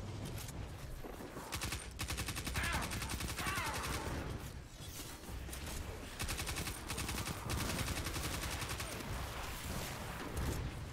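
Rapid, dense gunfire from a short-range weapon in Destiny 2, sustained bursts of fast shots under game noise and effects, loud and continuous throughout a boss fight against Scorned.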